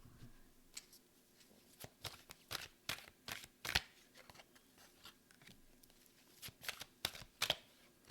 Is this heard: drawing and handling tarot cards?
yes